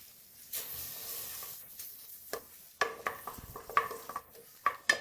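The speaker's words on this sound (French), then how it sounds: "dans une poêle chauffée, ajoutez 2 cuillères à soupe de beurre et laissez-le fondre tranquillement" Butter melts in a heated frying pan, giving a soft sizzle and hiss broken by repeated clinks and scrapes of a utensil against the pan, close and moderately loud.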